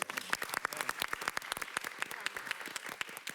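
An audience at a K-pop panel event bursts into a short round of applause, many hands clapping densely and evenly at moderate distance, with no voices over it.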